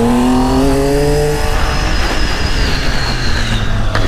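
A Triumph Tiger 800 motorcycle running without an air filter roars loudly and close, with a rising rev that blooms into a harsh, sustained engine blare.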